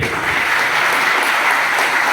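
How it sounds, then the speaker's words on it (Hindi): An audience claps loudly and steadily at a political party gathering, dense sustained applause filling the whole moment. "इस पे जोरदार ताली बजाइए"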